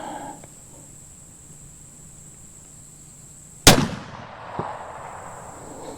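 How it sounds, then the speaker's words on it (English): A single loud, sharp gunshot from a Cimarron Model 1860 Colt revolver firing round ball or conical bullets at a shooting range cracks out of quiet background, then rings down over about a second, with a faint knock afterward. "Ooh, man, that shot low and to the right."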